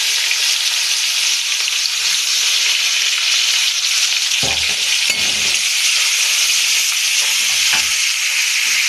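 Cumin seeds and chopped onion fry in hot oil, giving a steady loud sizzle that fills the whole stretch, with a few stirring knocks from the pan near the middle and again later.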